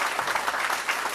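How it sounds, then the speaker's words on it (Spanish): A church congregation claps steadily and densely, a continuous patter of applause filling the room for a moment. "démosle un aplauso a todos ellos que creyeron en la palabra"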